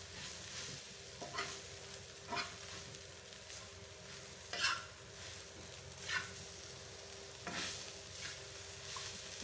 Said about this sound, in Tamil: இப்போ அந்த எண்ணெயில் எண்ணெய் பரோட்டாவில் கோட்டிங் ஆகி நல்லா மிக்ஸ் ஆகிற வரைக்கும் அதை வறுத்து எடுத்துடுறோம்.